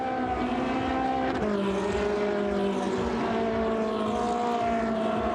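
The 102 race car of Claudio Schiavone in a Coppa Shell race drives around the Sochi circuit with a steady engine drone whose pitch drops sharply at one gear change, then holds and climbs gradually.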